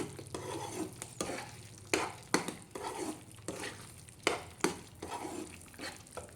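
Cornflour halwa stirred in a pan with a soft, constant sizzle, punctuated by several sharp scrapes and knocks of the spoon against the pan, fairly quiet and close.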